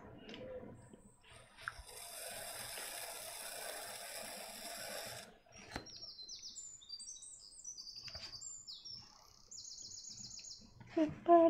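Outdoor birds give a run of bright, rapid chirps and tweets in the second half, set against a faint windy background and a few scattered clicks and noises.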